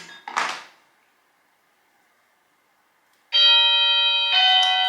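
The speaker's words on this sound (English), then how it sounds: "That's the doorbell." A short knock or thud, then quiet, followed by a loud sustained electronic doorbell chime with steady bright tones ringing close by.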